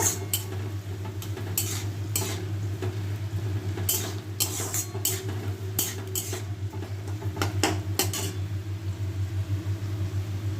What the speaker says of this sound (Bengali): অল্পই পনির আছে, এটা রান্না করছি, এটা একটু নেড়ে চেড়ে নেব